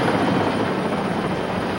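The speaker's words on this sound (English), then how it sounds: "A Flight for Life helicopter arrived within 20 more minutes." A Flight for Life rescue helicopter arriving at a heat stroke hiker scene, its rotor and engine making a loud, steady, close whir that carries on throughout.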